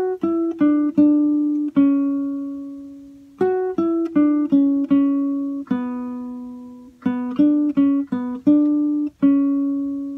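Guitar playing a Peruvian waltz phrase as clean single plucked notes in short rhythmic groups, separated by sustained ringing notes, close and clear with no voices.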